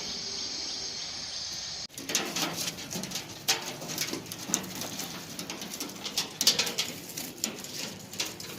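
Rajasthani kalsira pigeons cooing in a loft amid a busy outdoor bed of chirping birds and insects, soft coos and calls overlapping after an abrupt start.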